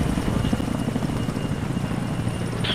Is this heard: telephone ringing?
no